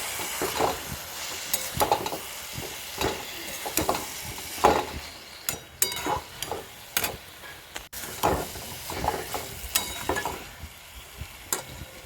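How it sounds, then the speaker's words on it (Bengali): Ol kopi frying in a pan with cumin powder, stirred steadily: a continuous sizzle with repeated scraping strokes of a spatula, close and clear, no voices. "দিয়ে এবার এটিকে ভালো করে নাড়িয়ে চালিয়ে নেব"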